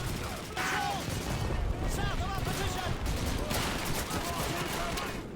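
Cannon and artillery fire in Call of Duty 2 rolls on as dense, overlapping battlefield blasts and crackling gunfire. It plays at moderate volume, with whistling shells arcing through the continuous din.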